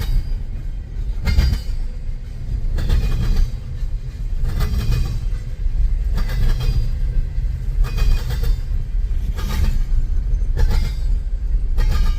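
Two CSX freight trains passing each other east of North Baltimore, Ohio, rolling by with a loud, continuous rumble broken by a regular rhythm of wheel clatter over rail joints, with no talk.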